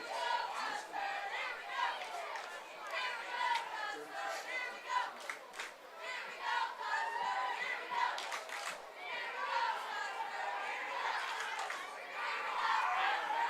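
Fans fill the stands at a high school football game between West Central Trojans and Custer Wildcats, cheering and yelling as one constant roar. The crowd noise stays steady and fairly distant, with scattered louder shouts rising out of it.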